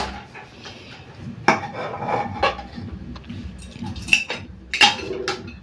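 Steel utensils scrape and clink against pots and plates as dal and rice are served in a village kitchen, a string of close, rasping scoops and sharp metallic knocks with no talking.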